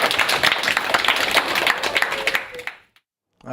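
A small group claps at a local French ceremony, a dense burst of applause lasting over two seconds before fading out to silence.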